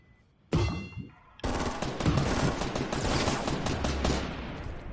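In a Fortnite match, a single sharp gunshot is followed by a burst of rapid automatic fire, loud and close, with echoing tails.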